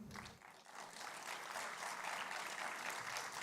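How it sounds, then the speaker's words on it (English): Steady, distant audience applause in a large hall at an IIT Roorkee anniversary celebration, dense clapping sustained throughout at low level, a brief low tone at the start. "Please give a huge round of applause, sir."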